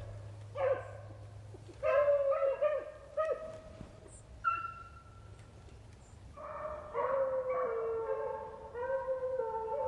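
Hunting dogs bay and howl on a Mississippi rabbit hunt, several dogs giving long drawn-out cries in bursts, some overlapping, at moderate distance outdoors with no talking.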